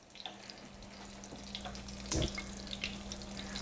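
Chard ribbons sautéing in a little oil in a skillet over medium heat give a soft, steady sizzle with faint scraping, a brief louder burst midway, and no talking.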